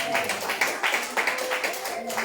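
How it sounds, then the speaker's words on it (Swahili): Church audience clapping at a gathering, a quick ragged patter of claps at close range, mixed with voices and a singing tone beneath. "Pigieni Yesu makofi"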